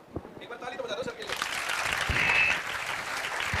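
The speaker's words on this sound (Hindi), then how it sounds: "ये लो एक बार ताली तो बजा दो सर के लिए" An audience claps for a speaker at a gathering. A voice comes first, then the applause swells into a dense, sustained patter that keeps going to the end.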